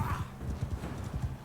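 A horse's hooves clop in a quick galloping rhythm in Mount & Blade II: Bannerlord, close and punchy, with a brief whinny near the start.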